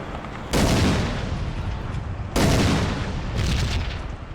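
Rockets fired at a tank in the WWI-alternate shooter Iron Storm, three loud booming blasts in sequence, each with a sudden attack and long rumbling decay.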